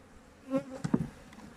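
Honeybees buzz around a frame lifted from a weak three-frame hive being readied for winter, with a few short, fairly close buzzes that rise and fade over a quiet background.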